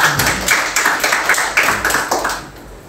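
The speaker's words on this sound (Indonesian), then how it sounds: "Tepuk tangan untuk Tuhan." A church congregation claps together in a steady rhythmic beat during a Sunday service, many hands in unison, loud and close, fading out toward the end.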